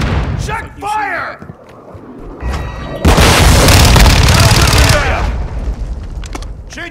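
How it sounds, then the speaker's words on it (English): A cruise missile blast in Call of Duty: Modern Warfare 2 Hardpoint play hits loud and sustained at about the three-second mark, rolling as a heavy roar and rumble for several seconds, preceded by scattered gunfire and shouted callouts. "Hostile cruise missile incoming!"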